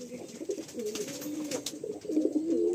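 Pigeons, including a fresh white Kalanka pigeon, give soft, throaty coos in a continuous close burbling over faint background noise.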